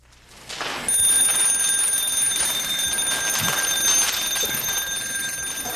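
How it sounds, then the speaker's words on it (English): A mechanical low-air alarm bell on a firefighter's breathing apparatus rings as the cylinder valve is turned, a loud continuous shrill ringing held for several seconds after a rising start. "This is the mechanical low alarm."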